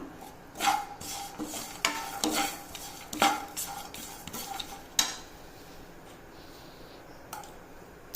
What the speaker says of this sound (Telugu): నువ్వులు కొంచెం వేడెక్కిన తర్వాత ఈ ఎండు కొబ్బరిని కూడా వేసేస్తాను.